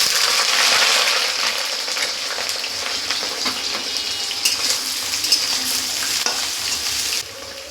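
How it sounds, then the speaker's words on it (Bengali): Ridge gourd fries lightly in hot oil in a wok, giving a steady bright sizzle with occasional scraping stirs, loud and close, easing slightly toward the end. "প্রথমে আমি ঝিঙেটাকে ভেজে নেব, হালকা ভেজে নেব, জাস্ট কাঁচা গন্ধটা যাতে চলে যায় সেই রকম"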